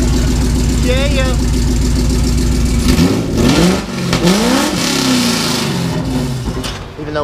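A Fox body car with a swapped-in Coyote engine and an unfinished exhaust, lopey idle bursting into several loud rising and falling revs, close and aggressive, with voices in the background.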